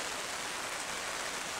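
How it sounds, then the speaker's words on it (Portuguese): Rain falling over the city of Colatina, Brazil, a steady dense hiss of downpour with no breaks, even and enveloping throughout. "Chuva caindo na cidade de Colatina."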